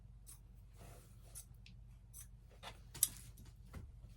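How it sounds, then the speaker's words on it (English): Scissors trim the bulky fabric edges of a Christmas apron, quiet scattered snips and crisp cuts at irregular intervals, close up, over a low steady hum. "grab my scissors and just trim those edges off to get that bulk out"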